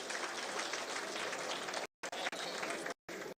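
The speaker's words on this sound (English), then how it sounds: "We'll give you please another round of applause for him" An audience at a Nigerian formal gathering claps in a steady, moderate round of applause that cuts off abruptly partway through, with brief fragments returning between gaps.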